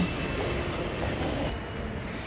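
A Bengaluru metro train rumbles along the track while carrying passengers, producing a dense, steady broadband roar that stays constant throughout.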